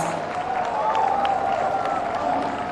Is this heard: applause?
yes